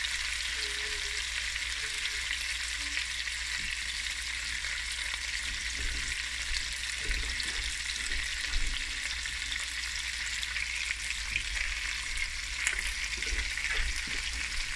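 Haitian conch meat with spices fries steadily in a pan, a loud continuous sizzle with occasional light stirring scrapes throughout.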